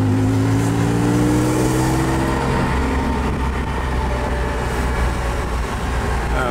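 A 1983 Porsche accelerates on the road: a loud, close engine rises in pitch, shifts gear, then pulls on steadily through a continuous roar of road noise.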